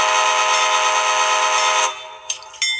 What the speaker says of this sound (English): if you activate the horn with the ditch lights on